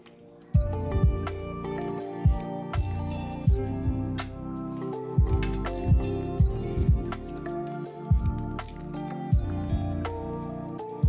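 Poppy seed paste is kneaded by hand with a little water in a bowl, giving repeated wet squishing, slapping pats in a steady rhythm, close and fairly loud.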